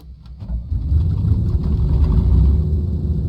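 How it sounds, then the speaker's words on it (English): A simulated P-40N WarHawk engine cranks over and catches in a flight simulator, rising quickly into a loud, steady low rumble that holds alone to the end. "The engine firing up very easily there"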